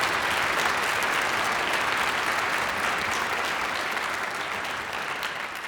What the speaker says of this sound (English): Could we have one more hand for Spokane Youth Strings?